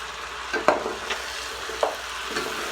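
Kabsa is stirred in a pan with bay leaves, giving a few soft scraping strokes over a steady low sizzle, close and fairly quiet, with no voices.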